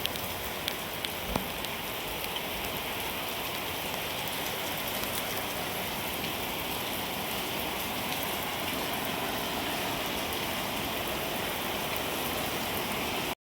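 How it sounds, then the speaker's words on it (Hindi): Heavy rain pours down in a steady, dense hiss that holds without letup, with no voices. "बारिश हो रही है भयंकर वाली"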